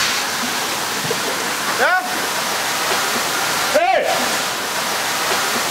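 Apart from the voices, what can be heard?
water jets blasting from dredger nozzles at 20 bar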